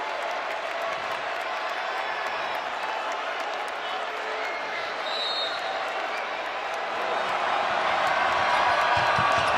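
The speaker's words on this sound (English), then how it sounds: "And listen to this crowd." A steady roar from a college basketball arena crowd, Marquette at Creighton, a dense wash of voices that swells slightly near the end while a commentator talks over it.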